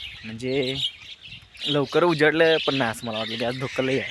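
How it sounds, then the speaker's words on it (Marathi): Birds chirp steadily on a foggy early morning, their thin, high calls running faintly beneath someone talking close by. "आणि तुम्हाला आता पक्ष्यांचा आवाज येत असेल"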